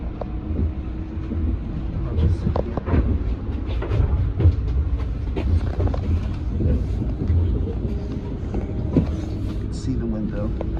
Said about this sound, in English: a Kawasaki train on the Harlem line